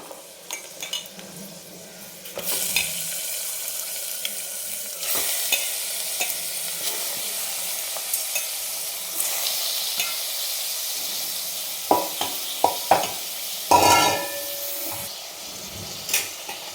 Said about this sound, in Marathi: याला आता छान मिक्स करून घ्यायचं आहे आपल्याला गॅसची फ्लेम एकदम हाय ठेवायची